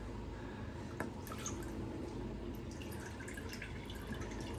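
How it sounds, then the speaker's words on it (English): Water rinsing coffee grounds off a deer skull European mount, a quiet trickle with scattered drips and splashes, faint and continuous with a slightly louder splash early on. "pull it out of here and I'm gonna rinse it off"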